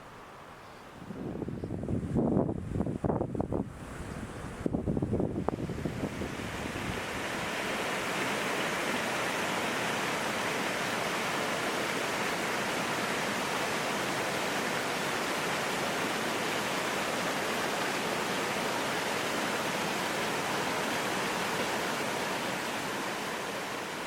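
Rushing water of Rifle Falls, a waterfall in an open valley, mixed with wind buffeting the microphone; a few seconds of rumbling gusts give way to a steady, broad, loud roar that continues to the end.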